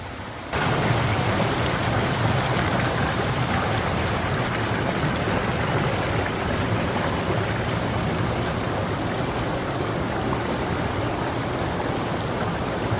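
A clear mountain valley stream with deep, clean water in a Korean gorge, flowing in a steady, loud, continuous rush with no voices.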